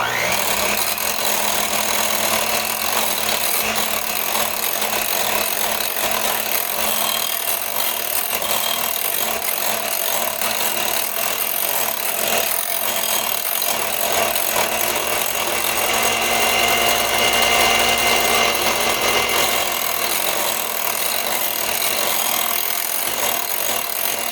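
An electric mixer beats cream cheese for a salsa dip, giving a steady, loud motor whir with a gritty rubbing texture that runs without a break throughout.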